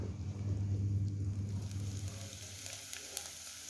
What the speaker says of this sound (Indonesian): Tumis bawang putih, bawang bombay hingga baunya harum.